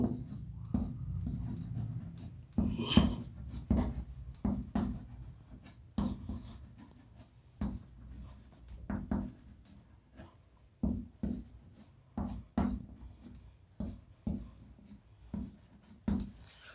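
Chalk or a marker taps and scratches across a board while a chemical formula for a carbohydrate is written, in short, irregular strokes with pauses between them, close and fairly quiet, with no talking.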